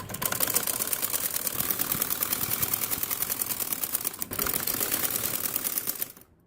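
A sewing machine stitching a salwar ponche, running in one long, continuous, dense rattle of rapid needle strokes, with a brief dip near the end before it stops.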